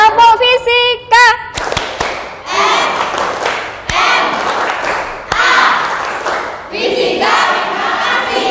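A classroom of students doing a rhythmic clapping chant, sharp claps and thumps in patterned bursts mixed with shouted group voices, close and loud, with a brief speaking voice at the start.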